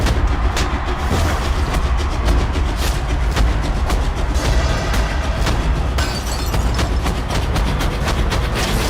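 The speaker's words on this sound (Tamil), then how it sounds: "போடுங்கடா வெடிய." A dense barrage of firecrackers bursts continuously at a film pre-release event in Madurai, loud and crackling, with sharp pops layered over a constant roar.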